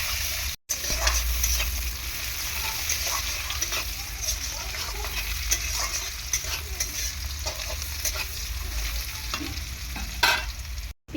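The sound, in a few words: chopped onion frying with cumin seeds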